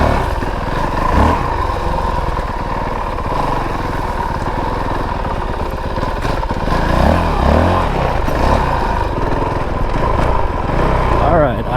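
A 2022 Honda CRF450RL dual-sport dirt bike ridden off-road on tight, technical terrain, its engine loud and close with constant revving and clutch-feathered surges, and some clatter.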